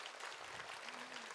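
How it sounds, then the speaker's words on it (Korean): Applause from a church congregation at a Christian conference, a steady wash of many hands clapping together that fills the whole short moment at a moderate level, with no voices standing out above it. "예수님께 영광의 박수 올려드리겠습니다."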